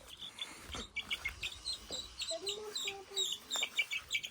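Several chickens cluck and call in a farmyard in a quick irregular series of short, fairly close calls, with a faint voice and low background rumble underneath.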